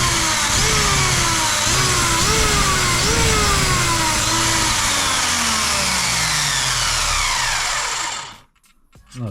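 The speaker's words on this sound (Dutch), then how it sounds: "In ieder geval de kracht hiervan van die motor hebben we nog niet gezien." A Traxxas XO-1 RC car's electric motor revs hard, a loud high whine that rises and falls in repeated surges before cutting off abruptly near the end.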